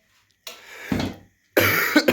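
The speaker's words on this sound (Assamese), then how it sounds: "কাহ আহি থাকে মাজে মাজে" A person with a mild fever coughs in two separate bursts, each harsh, loud and close, with a short silence between them.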